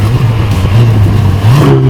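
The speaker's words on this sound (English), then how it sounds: "the turbo sound, it actually sounds really great" A turbocharged Ferrari engine pulls hard and loud up close, its tone rising through a brief dip before climbing again in pitch toward the end.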